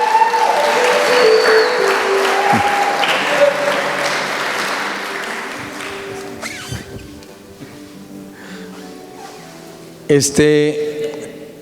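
A crowd claps loudly in a dense burst that gradually dies away, with a voice speaking over the fading applause.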